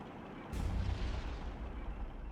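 An anti-tank strike lands in the WARFARE Legacy war game, a sudden deep booming blast that swells and then rolls on as a low rumbling roar, with no speech.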